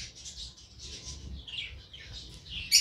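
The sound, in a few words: budgerigars chirping while feeding chicks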